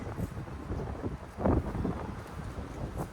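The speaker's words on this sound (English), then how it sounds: "Hope the wind's not messing up my video." Gusty wind buffeting a microphone at an old hillside cemetery in Sharps Chapel, Tennessee, a steady low rumble with stronger puffs, no talk.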